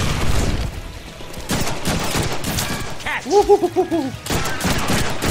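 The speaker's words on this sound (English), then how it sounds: "killing these guys with a gun shot" Gunfire in the Deadpool video game pops in repeated shots amid combat noise, with a voice talking briefly over the shooting.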